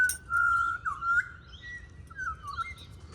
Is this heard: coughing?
no